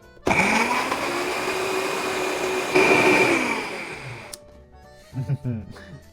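A blender whirs through a chocolate cookie milkshake with a loud, steady high-pitched motor whine that surges once midway, then cuts out, followed by a few quiet clinks and a brief voice.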